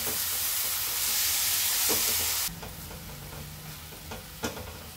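Crushed ridge gourd is stirred in a hot pan: a loud sizzle at first drops off suddenly midway, followed by scraping stirring strokes and occasional clanks of the utensil against the pan.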